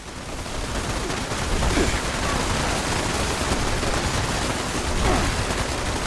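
Sustained gunfire in Fallout 76 at a large shelter base, dense overlapping shots and bursts rattling continuously at a steady loud level for several seconds, with no voices.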